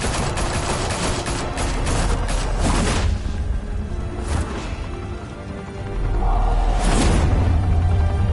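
Loud, dense gunfire from a Batman video game set in Gotham rattles almost without pause for eight seconds, easing briefly before surging back into heavy bursts.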